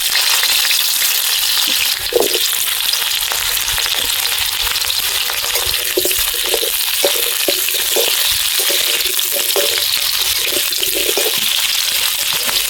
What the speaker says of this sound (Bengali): তেল গরম হয়ে গেছে, এবারে আলুগুলো দিয়ে দেব।